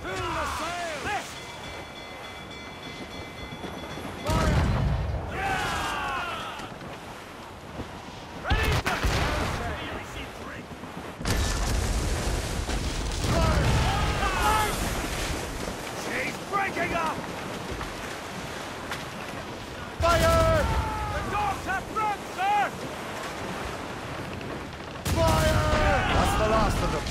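Ship cannon fire during a naval battle in the video game Assassin's Creed Rogue, heavy booming volleys bursting out repeatedly over sea wind, waves and shouted voices.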